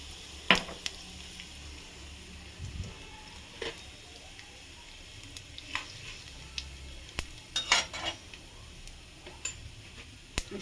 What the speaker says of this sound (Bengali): কড়াইতে তেল দিয়ে দিয়েছি, গোটা জিরে ফোড়ন দিয়ে দিলাম বেশ খানিকটা।